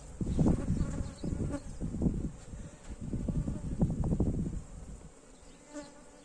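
Honey bees buzz around an open beehive during an inspection. The swarm drones continuously at moderate volume, swelling and fading in waves as bees fly near and away, with light wind noise.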